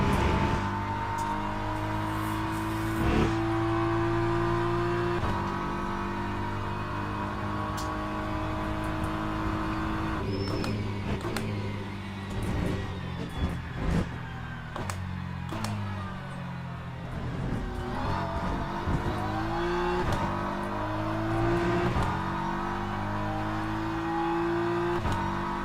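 Race car engine in the Le Mans Ultimate racing game at Watkins Glen, a steady loud droning whine that shifts pitch with gear changes and throttle, continuous throughout with brief tonal sweeps.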